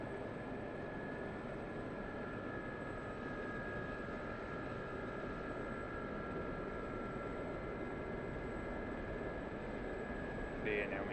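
An SA342 Gazelle helicopter powers up for takeoff in DCS World, its turbine whine and rotor drone holding steady and fairly quiet throughout, with faint talk underneath.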